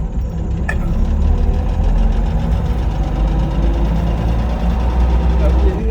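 A 1937 Chevrolet Sport Coupe engine running with a loud, steady low rumble and even mechanical hum close by, while people talk over it.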